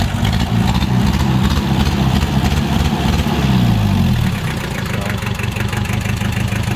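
A diesel engine runs on a sawmill machine, a loud, close, chugging idle with a steady throb that shifts pitch slightly partway through before settling into an even rumble.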